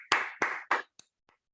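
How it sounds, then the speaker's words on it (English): Brief clapping from a small group after a meditation session on stress and health: three sharp claps in rhythm, then two faint stray taps before silence. "let us give a applause to our own selves."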